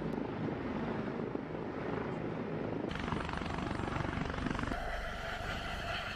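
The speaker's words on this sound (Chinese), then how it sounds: "清晨，数十架直升机按战斗编组依次升空" Military helicopters of an army aviation brigade lift off one after another during a live-fire exercise on steppe grassland, their rotors and engines forming a continuous heavy thrum that swells and shifts in layers.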